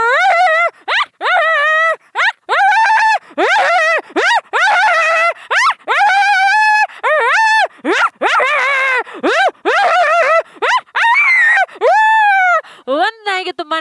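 A human voice imitating dogs fighting: rapid, loud bursts of snarling barks and yelps in quick succession, tonal and strained, performed alone on stage at an annual day celebration.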